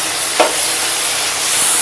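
Stuffed brinjal curry sizzles steadily in a hot pan, with a single brief scrape as it is stirred once, close and fairly loud with no voices.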